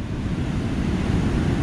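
Ocean surf breaks over a sandbar on a beach, a continuous loud wash of rumbling water mixed with buffeting wind noise on the microphone.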